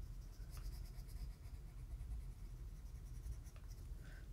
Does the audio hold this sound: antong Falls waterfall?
no